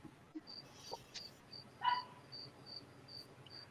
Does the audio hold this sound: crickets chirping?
yes